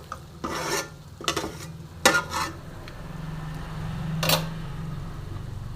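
A spoon stirs chicken cutlet mixture with mashed potato in a pan, making several short, close scraping strokes over a low hum from the stove.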